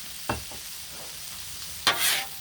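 Sloppy joe meat is stirred with a spatula on a Blackstone griddle outdoors, giving two distinct scraping strokes over a steady sizzle, close up and with no talk.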